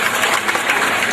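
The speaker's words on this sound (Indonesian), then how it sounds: "mari kita tepuk tangan Bapak Ibu sekalian" Crowd applause at a graduation ceremony, a dense, steady wash of clapping from a large audience filling the whole short stretch.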